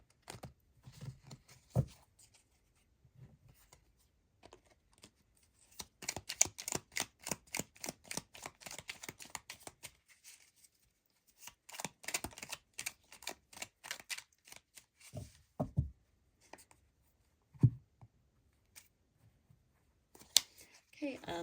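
Tarot cards are shuffled and laid out in a spring equinox reading, with rapid riffling flutters in several bursts and a few sharp taps as cards are set down, while a person speaks at times.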